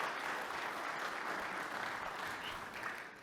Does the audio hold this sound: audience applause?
yes